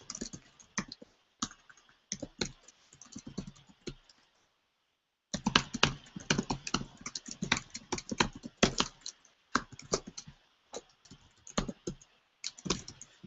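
Fast, close typing on a computer keyboard: dense bursts of crisp key clicks, a pause of about a second midway, then steady clattering resumes to the end.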